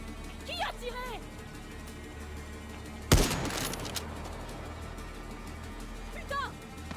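A single loud burst of gunfire rings out in the video game Far Cry 6 and lingers briefly over a steady game background, with faint bird-like chirps before and after.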